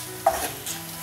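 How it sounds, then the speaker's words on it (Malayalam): Spice powders sauté on a low flame for a brinjal mezhukkupuratti, with a soft, quiet sizzle and a single brief scrape of stirring. "ഫ്ലെയിം ലോയിൽ ഇട്ടിട്ട് വേണം നന്നായിട്ടൊന്ന് സോട്ടേ ചെയ്തെടുക്കാൻ"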